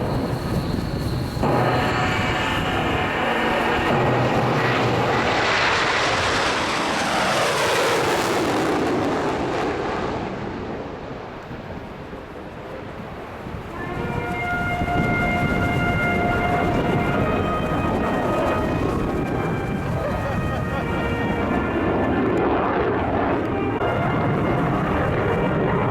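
F/A-18F Super Hornet jet at an air show powering up for an overshoot, a sustained loud engine roar sweeping past overhead, fading briefly, then rising again with rumbling, whining turbine tones.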